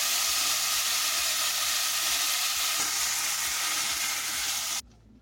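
Cooked beans sizzle loudly in a hot pan, a dense steady frying hiss that runs close and continuous before cutting off abruptly near the end, with no voices.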